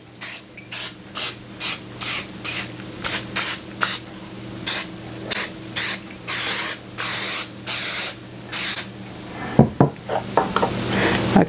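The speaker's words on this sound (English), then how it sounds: "I'm just going to spray it with some cooking spray." Rapid short bursts of aerosol cooking spray hiss into a 9x13 pan in a steady stuttering rhythm, close and loud, followed by a brief clatter.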